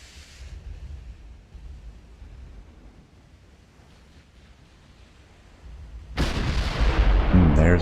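Naval artillery rounds fire in the warship game Ultimate Admiral: Dreadnoughts. A low, windy rumble gives way to a sudden, loud, sustained heavy blast near the end.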